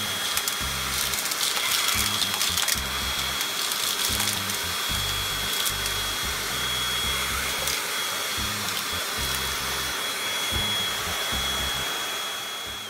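A Bosch EasyVac 12 vacuum cleaner runs steadily with a high, hissing suction whine, its low-end rattle pulsing irregularly as screws are sucked up, with no talking.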